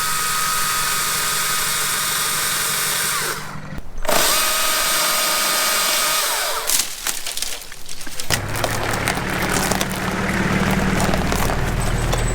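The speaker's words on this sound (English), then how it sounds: "we have to clear it a bit with the chainsaws," A chainsaw cuts trees to clear a path for a Mercedes Sprinter van at an abandoned homestead. It whines steadily, stops briefly around the midpoint, then starts up again and keeps running loud and close.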